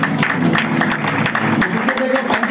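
An audience at an event claps loudly, a dense, continuous burst of applause that fills the whole moment, with voices mixed faintly underneath.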